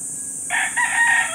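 A white Texas gamefowl rooster crows once near the microphone in a rural Philippine yard, a single loud, rising call lasting about a second with no talk over it.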